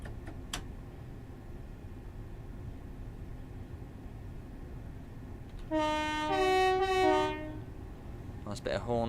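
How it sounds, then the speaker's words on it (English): A train horn sounds in Train Simulator Classic on the Chatham Main Line: a loud, harmonic two-tone blast over the low rumble of the moving train, with a brief second toot near the end. "Nice bit of horn there."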